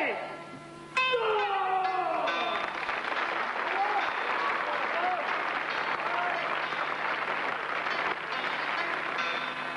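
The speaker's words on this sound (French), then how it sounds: "Je voudrais qu'on applaudisse très fort" A large arena crowd at Paris Bercy applauds loudly after a Quan Ki Do martial arts demonstration, a dense, sustained roar of clapping that swells in after a brief tonal burst and carries on steadily.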